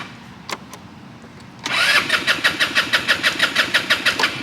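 A car engine cranks after a few faint clicks, the starter turning over in a steady rapid rhythm for several seconds, loud and close, without catching and running.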